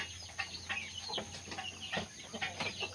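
Pure Aseel chickens, including a three-time-winner Aseel crossed with a Burmese hen, clucking softly and intermittently in a quiet pen, with a steady background hum.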